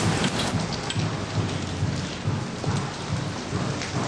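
Steady rain pours down hard during a motorcycle ride through the city, forming a dense, constant hiss with low rumbling underneath and no speech.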